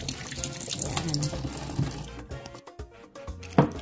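Eggs are rinsed under a running kitchen tap, with water splashing and trickling into a sink, uneven sloshes and a few sharper drips, while a voice speaks quietly nearby.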